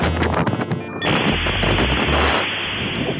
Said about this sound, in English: now that the wind has passed